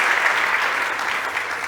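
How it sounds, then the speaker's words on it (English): Applause from the audience at a startup competition stage ends a pitch, steady, dense clapping filling the room at close range, alone without any voices. "Big applause"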